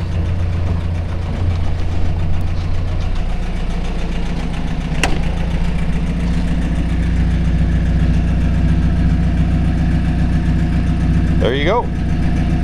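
A 1950 Willys Overland Jeepster engine idles steadily with a low, even rumble close by for the whole stretch, someone speaking briefly over it, a sharp click partway through and a short squeak near the end.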